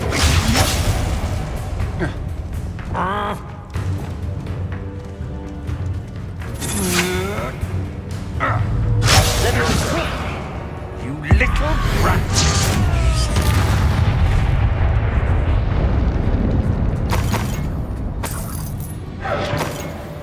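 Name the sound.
spell explosions from video game Hogwarts Legacy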